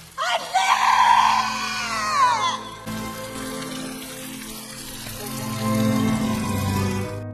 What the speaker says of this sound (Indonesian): Tiba-tiba terdengarlah suara teriakan Myunsuk yang kini datang mendekati mereka.